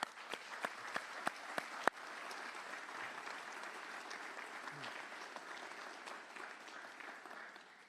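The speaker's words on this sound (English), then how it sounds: "I'd like to give you a round of applause" A round of applause at an NROTC commissioning ceremony at Texas A&M: a few separate claps at first, then a soft, even wash of crowd clapping that carries on steadily and fades slightly toward the end.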